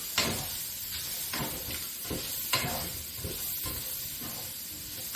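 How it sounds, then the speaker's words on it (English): Sliced mushrooms for a Southern-style green bean casserole are stirred in a hot pan over medium-high heat. A steady sizzle runs throughout, broken by repeated scraping stir strokes, close and fairly loud, with no voices. "So, we're going to go ahead and give this a good stir."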